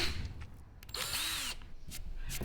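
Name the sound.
power drill drilling a hole through a wooden board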